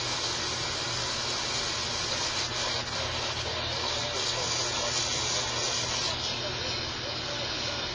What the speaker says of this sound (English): What you're hearing there is either a local medium wave station or FM station.